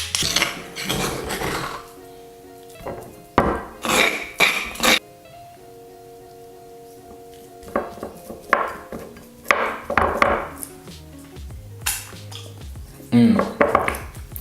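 A spatula scrapes and knocks against a food processor bowl, transferring rustic vegan pesto into another bowl. The scrapes come in irregular bursts with clinks between them, and a voice speaks softly in the background.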